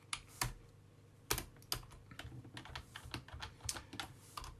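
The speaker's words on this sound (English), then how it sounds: "And type that up." Fingers type on a computer keyboard in quick, irregular bursts of close, crisp key clicks, faint and alone with no voice over them.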